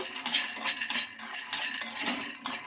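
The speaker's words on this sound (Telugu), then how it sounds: "కలుపుతూ అటు ఇటు బాగా ఫ్రై చేసుకుందాం పల్లీలను" Peanuts being stirred and fried in a kadai, a spoon scraping and clinking against the metal pan in quick, uneven strokes, close and fairly loud, with the nuts rattling around inside.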